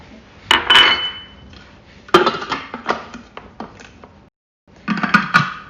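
Whole flax seeds, 45 grams, poured into a Thermomix bowl in a home kitchen, giving bursts of pattering, clinking rattles against the bowl with a short pause between pours.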